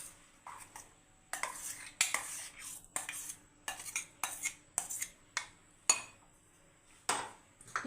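Boiled sweet corn kernels dropped into a mixing bowl for cheese corn puffs, heard as a series of sharp clinks and rattling scrapes against the bowl, irregular bursts with short pauses, close and fairly quiet, no talking.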